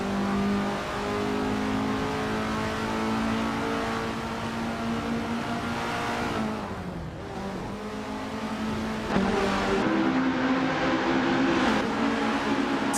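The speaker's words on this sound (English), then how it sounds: "Sweet QP is driving a 1978 Medex MTX 103C in 5th place" Racing car engine of a 1978 Medex MTX 103C in a racing video game, a loud sustained drone with steady revs that dip and shift pitch mid-clip before climbing again, continuous throughout.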